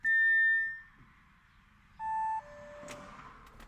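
An Audi A6 3.0T warns with electronic chimes: a loud, steady tone lasting under a second, then a shorter second beep, followed by quieter mechanical clatter in a garage.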